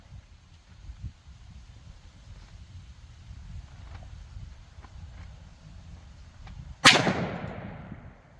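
A single sharp, loud shot from a Springfield XDM Elite OSP 3.8-inch 10mm pistol cracks near the end and rings off in a short decaying tail, after several seconds of outdoor wind rumble.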